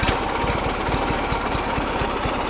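A Trapper mini bike engine with a choke, running with a steady, rapid low thumping pulse like a Harley, close and continuous with no talking.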